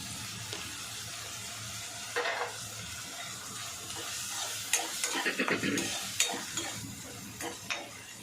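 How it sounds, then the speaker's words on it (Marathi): Onion frying with salt in a pan over a very high flame, a constant close sizzle with scattered scraping and clattering stirs growing busier toward the end, no voices. "आपला कांदा चांगला फ्राय करून घ्यायचा"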